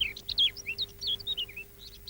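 Caged songbirds chirp in quick, high, repeated tweets and short trills, close by and clear over a quiet low hum, with no voices.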